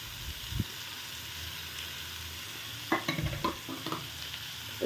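Bitter gourd seasoned with salt, sugar and chili powder fries in a pan under a soft, even sizzle. Scraping stir strokes clatter in bursts during the second half.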